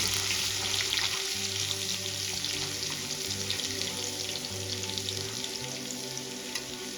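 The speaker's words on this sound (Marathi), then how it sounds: "आता या स्टेजला लसूण ऍड करून घेऊया इथे आपल्याला लसूण छान गोल्डन कलर येईपर्यंत परतून घ्यायचं आहे" Garlic frying in hot oil in a kadai over medium flame, a steady close sizzle with soft crackle and faint stirring, continuous throughout with a low background hum.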